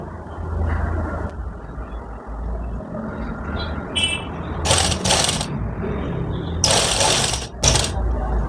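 An electric sewing machine stitches a ready-to-wear belted saree in short, loud bursts of rapid whirring, with softer handling noise and pauses between runs.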